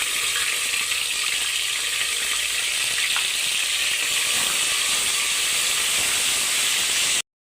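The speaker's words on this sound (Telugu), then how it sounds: "ఇప్పుడు ఇందులో మనము అల్లం వెల్లుల్లి మసాలాని వేసేసుకుందాం" Ginger garlic paste hits golden-brown fried onions in hot oil inside a cooker, giving a loud, steady broadband sizzle and hiss that runs unbroken for about seven seconds and then cuts off abruptly.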